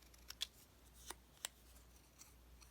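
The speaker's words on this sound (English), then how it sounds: "this one, I'm gonna go ahead and cut off" Scissors cut paper words out of a craft kit, making a few crisp, quiet snips spaced irregularly against a hushed background.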